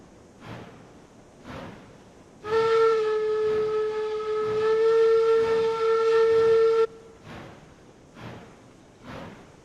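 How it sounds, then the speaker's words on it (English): The steam locomotive whistle in the game Railroads Online sounds one loud, sustained blast of about four seconds. It rises over a rhythmic chugging engine that continues before and after it. "I wish I could upgrade my whistle on my engine."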